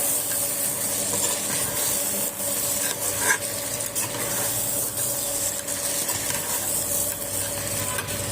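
Soaked potatoes and greens stems frying in hot oil alongside rohu fish, with a constant loud sizzle and scraping stir strokes of a spatula in the pan, close and continuous.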